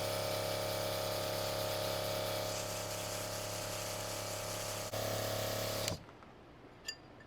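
A Chapin ATV quad sprayer pumps rinse water through its hoses with a steady, loud droning hum that cuts off abruptly near the end, leaving quiet with a faint click.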